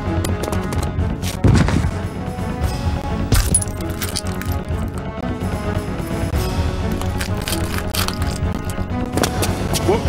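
Gunfire in the Resident Evil 2 video game: loud, sharp shots and impacts, some in quick bursts, over a dense, busy game soundtrack with no clear talking.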